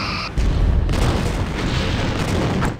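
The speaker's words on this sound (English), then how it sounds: "Full impulse, fire torpedoes." Torpedoes launch and detonate in the space combat game Star Trek: Bridge Commander, a sharp onset followed by a sustained, loud, rumbling boom that fills the clip before tapering off.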